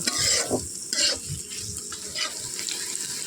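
Chopped onion with chili flakes and coriander powder frying in hot oil in a pan, a steady close sizzle with stirring scrapes and a couple of louder bursts.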